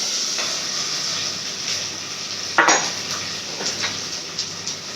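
Tomatoes frying in a pan make a soft steady sizzle and hiss, broken by a few sharp clinks and scrapes of a spoon stirring against metal, close by.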